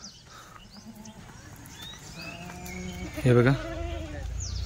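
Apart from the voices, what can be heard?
Kathiawadi goats bleating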